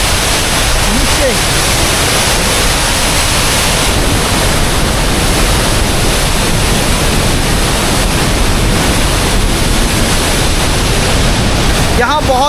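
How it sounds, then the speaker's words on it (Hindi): A waterfall near Tosh village roars very close by as a loud, steady, broadband rush of falling water that never lets up and swamps everything else. "यहाँ सामने कुछ इस तरह का झरना बह रहा है और ये जाता है नीचे"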